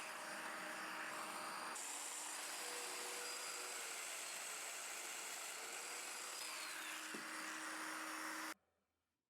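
Festool Domino joiner cutting a mortise in solid wood for an entry door, a steady high-pitched motor whine that runs loud and close for over eight seconds, then cuts off abruptly.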